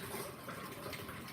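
Cold water runs from a kitchen tap in a steady, soft gush for a short moment, with no voices over it.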